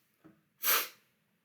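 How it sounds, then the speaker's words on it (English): A sharp single sneeze-like snort bursts out after a soft short intake of breath, close and brief in a quiet indoor room. "there's something in my room that's giving me a coughing nose fit here"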